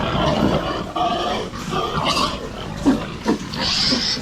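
Pigs grunt and oink inside a hog barn, a close, continuous jumble of rough snorts and squeals with a few sharper grunts standing out.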